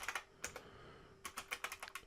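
Keystrokes on a computer keyboard while entering text into a search box, coming in two quick bursts of clicks separated by a pause, close and clear with no talking.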